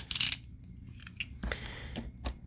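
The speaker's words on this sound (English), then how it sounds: "let's get some scissors in or something sharp and get this open" Scissors snip and pry at the cardboard packaging of an A2 light pad, giving a few sharp, close cuts and crinkles separated by short pauses in a quiet room.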